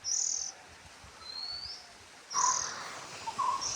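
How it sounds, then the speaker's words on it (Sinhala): Several birds call in a home garden: faint, high chirps and a thin rising whistle, with a brighter burst of chirping near the end over a quiet outdoor background. "ඔයාලට ඇහෙනවනේ පරිසරයෙන් ඇහෙන එක එක කුරුල්ලන්ගේ ශබ්ද."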